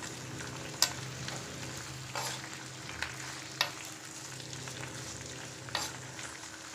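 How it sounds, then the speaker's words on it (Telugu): Flat beans (chikudikaya) frying in hot oil in a pan, a soft steady sizzle broken by several sharp scrapes and clicks as they are stirred, close and fairly quiet, no voices. "ఆయిల్ హీట్ అయిన తర్వాత చిక్కుడుకాయలని ఇందులో వేసుకోవాలి"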